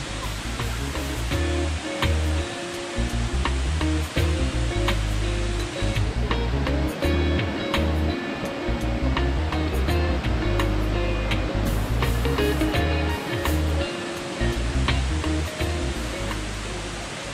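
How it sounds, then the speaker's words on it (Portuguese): Kuang Si waterfalls near Luang Prabang, Laos, pour in a loud, steady roar of rushing water that fills the scene without a break, with a few faint sounds over it. "o ponto turístico mais famoso de todo o país são essas cachoeiras aqui"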